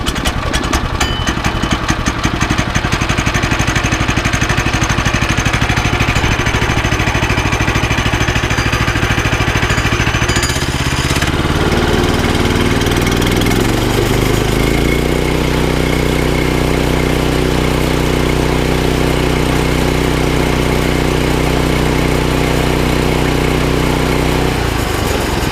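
The small engine on a portable sawmill is pull-started and runs loudly and continuously at close range, its rough rattling roar settling into a steadier idle hum partway through, with no talking.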